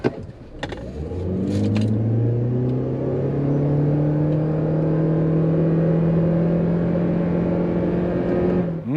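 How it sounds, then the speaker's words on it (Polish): A 2025 facelifted Toyota Corolla Cross hybrid at full throttle in Power mode, the engine droning up to a high steady pitch and holding there as the car accelerates, heard loud from inside the cabin. "Tryb Power Gaz w podłogę."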